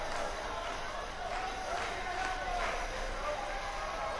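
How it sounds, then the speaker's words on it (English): A wrestling arena crowd in WWE 2K18 fills the space with a steady, dense roar of cheering and noise, continuous and even in level throughout. "And what about this crowd reaction"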